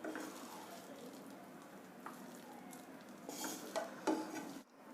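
Hot boondi sabzi, a gram-flour pearl curry, is scooped from the pan into a bowl: soft, faint scraping and a few light clinks of spoon on metal, close by, with no talk.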